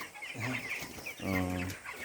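Twenty-day-old broiler chickens on a farm cluck nearby in short, repeated calls, with one longer drawn-out squawk standing out.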